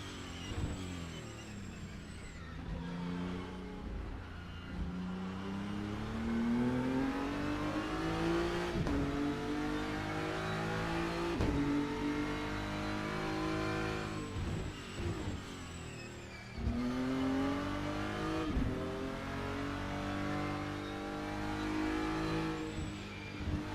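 A GT race car on a hot lap at Jeddah in a racing game, its engine loud and close, climbing through the revs in long pulls with sharp drops at each gearshift, repeated across the lap.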